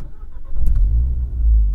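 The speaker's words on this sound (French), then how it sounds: "Quand vous démarrez le moteur, ça se passe comme ça." A stock Renault Clio 4 RS Trophy engine cranks and catches, settling into a deep, steady idle rumble close by.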